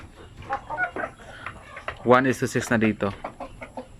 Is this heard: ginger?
no